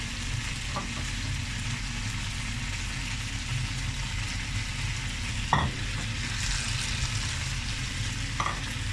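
Butter chicken gravy with full cream simmering in a pan, a continuous soft bubbling sizzle over a low steady rumble, broken by a few faint stirring scrapes.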